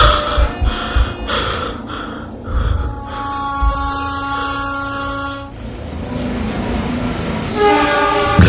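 A train passes along a railway line near a house, a loud sustained rumble with harmonic horn-like tones building and holding through the middle, steady and close throughout.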